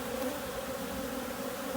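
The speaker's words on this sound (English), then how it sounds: "Got bees kind of swarming all over." Bees swarming during installation of a nuc, a dense, steady close-up buzz of many insects filling the short stretch with no voices.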